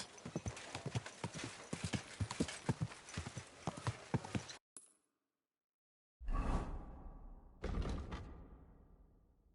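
Hooves of a single horse clip-clop in a steady rhythmic patter, fairly close, then stop after a brief swish, followed by two further bursts of heavier thumping movement.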